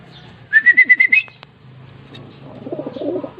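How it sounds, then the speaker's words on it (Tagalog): A racing pigeon gives a close, loud burst of rapid cooing notes with a whistled tone, followed by a short, softer rumbling coo, with no voices. "Second bird. Third bird. Fifth bird si Mocha."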